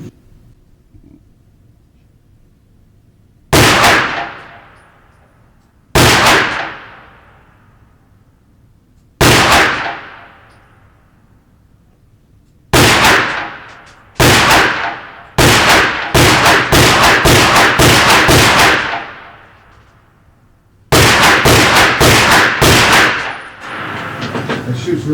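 Walther pistol fired slow and deliberate at a shooting range, with loud close gunshots sharply spaced by pauses, then a quicker run of shots, each one ringing out with a decaying echo.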